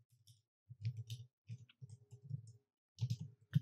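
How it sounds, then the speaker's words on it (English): Short bursts of clicking while working in Google Docs on a computer, quiet and close, in clustered groups separated by silent gaps. "I'm going to go ahead and click next to the text where I would like to insert"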